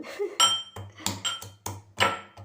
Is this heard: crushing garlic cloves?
yes